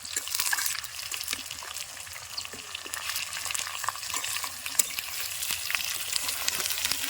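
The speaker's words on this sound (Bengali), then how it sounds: "পাঙ্গাস মাছের কাল্লা তেলের মধ্যে ছেড়ে দিলাম" Pangas fish head frying in hot oil gives a steady crackling sizzle with bubbly, watery spitting and occasional pops, heard close and continuous without any talking.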